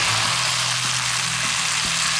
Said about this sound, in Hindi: पानी ऐड करें